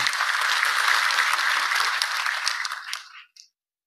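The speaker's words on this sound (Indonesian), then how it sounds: "Boleh tepuk tangannya dulu." Audience applause at an Indonesian Perindo party inauguration event, dense clapping that holds steady and then quickly dies away, ending in silence after a last few claps.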